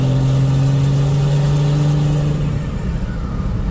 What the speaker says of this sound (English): I'm just letting the revs go higher with it in sport mode